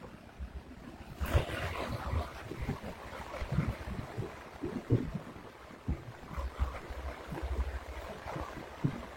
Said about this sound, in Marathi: पाऊस आता जोरात मुसळधार पाऊस परत सुरू झालेला आहे